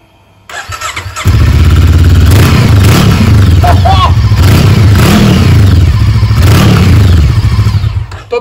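Brixton Crossfire 500 motorcycle engine starting up close and loud, then idling and revving in several throttle blips with a throaty exhaust before settling.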